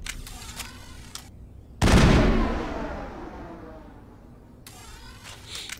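Weapon fire from the Mass Effect video game: a single loud, booming shot whose long rumbling tail slowly fades. Short bursts of quieter rapid firing sit before and after it.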